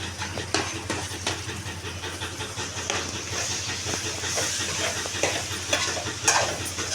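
Green chillies and tomatoes frying in a pan give a steady loud sizzle and hiss, broken by occasional scrapes and stirring clatter, close up and without talk.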